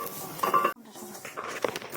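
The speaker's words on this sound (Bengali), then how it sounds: "ঢেলে দিয়ে ভালো করে নাড়তে থাকবো" Pumpkin murabba is poured into a pan and stirred with a utensil, producing clinks and scrapes against the metal, with a brief hush before the stirring resumes at close range.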